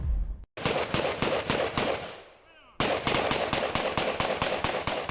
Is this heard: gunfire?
yes